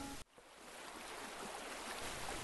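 Dirty, junk-laden water gushing from a water tower hose into a steam engine's tender, a steady broadband rush that swells after a brief cut and continues loud and unbroken.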